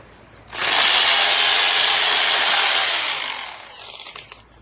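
A power drill with a long 16 mm bit bores into river stone, a loud, harsh, sustained grinding whine that starts abruptly, holds for about three seconds, then eases off and stops.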